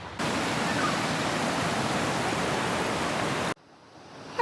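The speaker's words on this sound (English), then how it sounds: "There's some waterfalls here." Waterfalls in Zec Kipawa rush with a steady, full roar of falling water that runs unbroken for several seconds. Then it cuts off abruptly, leaving a quiet, hissing background.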